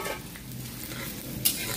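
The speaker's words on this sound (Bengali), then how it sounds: "এবার আমি কিছুটা পেঁয়াজ দিচ্ছি, ভেজে নিয়ে তুলে রাখবো বেরেস্তার জন্য" Sliced onions sizzle softly in hot oil, being fried for birista, with a faint steady crackle and one brief clink of a spoon near the end.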